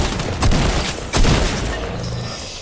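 Burst SMG gunfire in Fortnite, two loud close bursts about three-quarters of a second apart, each a rapid cluster of shots trailing into echoing rumble, with no talking.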